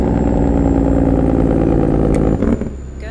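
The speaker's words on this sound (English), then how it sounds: "Oh, he's Jake braking." A truck's Jake brake in American Truck Simulator, hauling a Volvo excavator: a loud, steady, rapid rattling engine-brake drone that cuts off sharply near the end, leaving a lower engine rumble.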